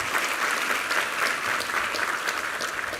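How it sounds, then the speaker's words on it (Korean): A church congregation claps during a Sunday worship service, giving a dense, steady burst of applause that stays even throughout without fading. "우리 하나님께 감사와 영광의 박수 올려드리겠습니다"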